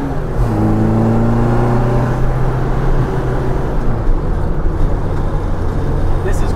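A 1967 Austin Mini Cooper S with Speedwell parts and velocity stacks, driving with a loud, close engine note that climbs in pitch through the revs, drops, then settles into a steady drone.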